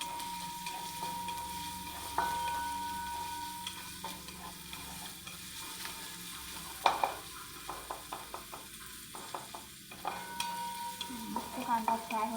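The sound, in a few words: onion and fried potatoes frying in a pan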